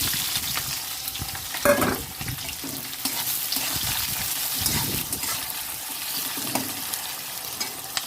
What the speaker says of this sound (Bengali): গরম মশলাটা একটু ভেজে নিলাম, নিয়ে কুচিয়ে রাখা এই পেঁয়াজগুলো দিয়ে দিলাম